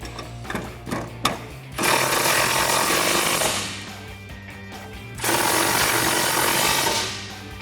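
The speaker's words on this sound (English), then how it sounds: "And then using the 13mm socket to snug them up." A ratchet with a 13mm socket snugs up headlight bolts on a 2011-2016 Ford Super Duty, with a few sharp clicks followed by two long, loud, buzzing runs of the tool, each lasting about two seconds, heard close with no talking.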